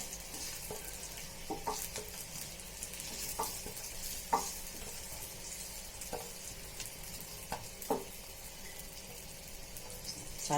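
Potatoes frying in a pan with a soft, steady sizzle, broken by scattered stirring taps and scrapes at close range, with no talking.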